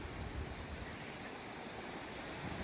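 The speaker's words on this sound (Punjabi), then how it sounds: "ਬਹੁਤ ਜ਼ਿਆਦਾ ਪਾਣੀ ਦਾ ਬਹਾਵ ਚੈੱਕ ਕਰੋ" Fast, flooded Sutlej river rushing past in a steady, dense roar of churning water, close and unbroken, with no voices.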